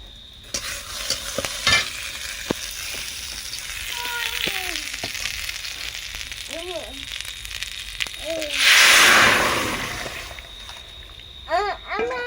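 Masoor lentils are stirred into a hot pan of sizzling tempering with curry leaves. A steady fry crackles under repeated scraping of the spoon, and a loud hissing burst comes as the dal goes in. Someone talks intermittently over it.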